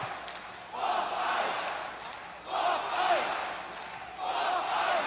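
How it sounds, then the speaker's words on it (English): Arena crowd at an AEW wrestling event chanting in unison, three rhythmic swells of massed voices repeating a chant, distant and echoing in a large hall. "you hear the crowds delivering an interesting chant"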